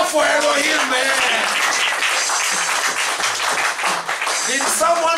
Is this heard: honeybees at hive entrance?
no